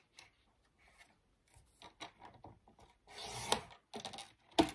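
A blade cuts a small strip of card in short scraping and rubbing strokes, quiet at first and then louder, with a couple of sharp clicks near the end.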